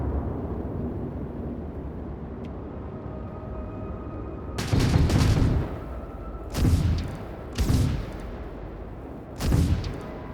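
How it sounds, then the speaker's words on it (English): Spaceship particle cannons fire in the video game Starfield, four loud crackling bursts roughly a second long each, spaced a second or two apart, over a constant low engine hum. "There's my new particle cannons. They're nasty business."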